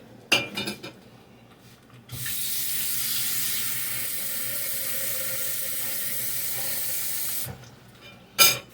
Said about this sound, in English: I am going to add some more water to this pot at this time